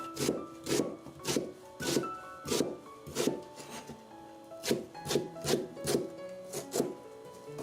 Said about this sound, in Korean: 저쯤에 양파를 썰겠습니다